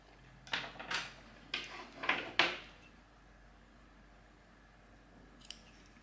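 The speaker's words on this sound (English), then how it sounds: "So you can cut the yarn." Several soft, crisp snips of scissors cutting yarn close by, a quick cluster of cuts followed by quiet.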